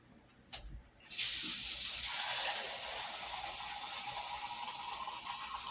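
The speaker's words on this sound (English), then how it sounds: "I'm going to add a little more water." After a couple of soft clicks, water rushes in steadily and loudly, filling a pot close by and continuing to the end.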